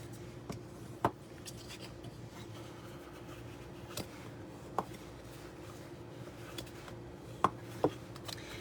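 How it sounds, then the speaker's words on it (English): A bone folder folds and burnishes score lines on cardstock, making sparse, faint rubs and a few sharp taps close by against a low steady hum, with no talking. "we're going to fold and burnish those score lines"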